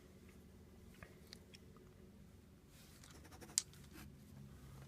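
Parker 51 fountain pen nib writing on paper, faint close scratchy strokes with a few small taps, quiet and unaccompanied by speech.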